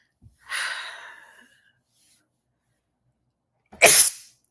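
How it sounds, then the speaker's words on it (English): Two sneezes, a breathy one followed after a pause by a sharp, loud burst, with silence around them. "the bullshit's making me sneeze"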